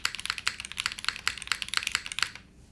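Rapid typing on a TB8-TKL prototype mechanical keyboard, a steady run of crisp, close clacks that stops abruptly near the end, with no talking.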